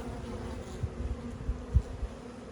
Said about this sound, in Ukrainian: Повільно рухаються бджоли, ще не дуже активні.